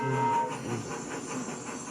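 A Roblox train rumbles steadily along with a low mechanical drone and faint rhythmic clatter, continuous and fairly close throughout.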